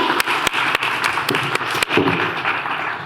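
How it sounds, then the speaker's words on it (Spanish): Audience at a Spanish startup investment event clapping to welcome a guest on stage, with a broad clapping wash punctuated by several sharp, close hand claps. "Fuerte aplauso para ella."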